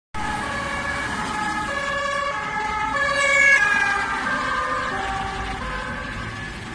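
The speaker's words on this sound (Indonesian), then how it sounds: "di sini ada mobil ambulan" A red-and-white toy ambulance sounds its electronic siren, a steady wailing tone that rises and falls in repeated cycles, loud and close, with no voices over it.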